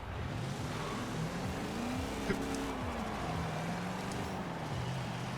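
Heavy 7.2-liter turbocharged V8 Hot Wheels Dually truck in Forza Horizon 4, a steady low engine drone with wavering pitch as it revs, running continuously at moderate level with no talk.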